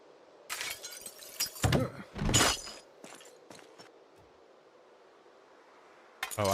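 A window breaks in the zombie survival game Project Zomboid, with a couple of sharp crashes of shattering glass followed by tinkling shards, then a quiet stretch before another burst of noise at the end.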